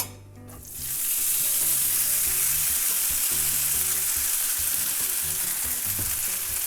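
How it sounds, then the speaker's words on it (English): Curry noodles for Singapore-style stir fry hitting hot oil in a pan, a steady loud hiss of sizzling that swells within the first second and holds, with faint clanks of stirring beneath, no talking. "I'm going to stir fry this for a little bit."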